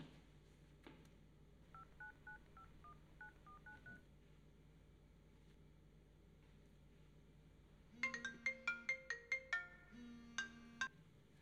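A mobile phone rings at home with a bright, repeating electronic ringtone melody of short rapid notes, fairly faint, after an earlier quieter tone pattern and a stretch of near silence.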